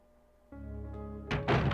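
A grenade round fired at a single zombie in Resident Evil 2: a dull thunk, then a sharp burst followed quickly by a second louder blast, close and heavy over a low hum.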